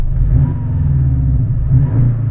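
A Porsche 718 Cayman GTS engine revs through a Fabspeed Supercup exhaust, a loud, deep, throaty rumble that swells and falls back as the revs drop, heard up close with no talking.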